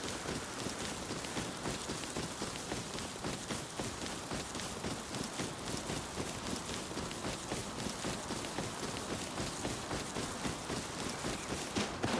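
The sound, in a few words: rain in the video game Rust, sounding like footsteps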